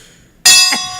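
A gong sound effect strikes once after near silence, a loud bright metallic crash with many ringing overtones that sustain and slowly decay, played during a casual podcast chat about favorite video games.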